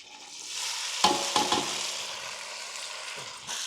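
Besan gatte pieces dropped into hot mustard oil, a steady bright sizzle and crackle with a few clinking stirs of a utensil, close and continuous without talk.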